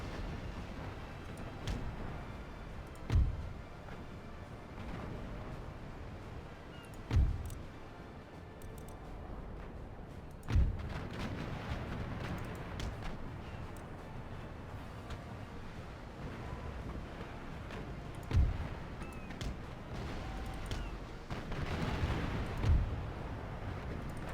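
Naval ship cannons fire a volley in Empire Total War: five heavy booms land several seconds apart over a constant rumbling background of sea and battle noise.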